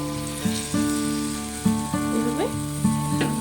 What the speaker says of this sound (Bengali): ফ্রাই প্যানটা গরম হয়ে গেছে আমি এক হাতা ব্যাটার দিয়ে দেবো